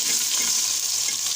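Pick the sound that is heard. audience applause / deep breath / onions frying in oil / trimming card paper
onions frying in oil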